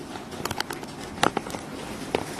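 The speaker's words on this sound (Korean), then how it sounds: "문을 열어놨더니 빗소리가 아주 그냥 엄청나네요." Heavy rain comes through an open door into the rest area of a workplace, a dense, steady patter that fills the room, scattered with sharper close drips and taps.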